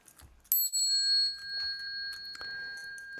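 A Buddhist liturgy bell is struck once and rings out with a long, clear, sustained tone, then gets a second lighter strike near the end, close and alone.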